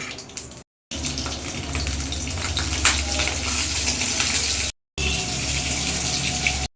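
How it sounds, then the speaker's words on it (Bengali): Potatoes frying in mustard oil in a wok, salted and dusted with turmeric, give a steady, dense, watery hiss that runs loud and unbroken under no talk, with two brief silent gaps. "আলুগুলো ভালো করে লাল লাল করে ভাজা হবে।"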